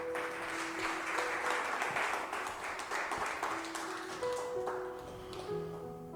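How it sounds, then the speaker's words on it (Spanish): A church congregation breaks into applause, a spread of overlapping claps with scattered ringing tones beneath, moderately distant and fairly soft, fading near the end. "Yo le daría palmas al Rey."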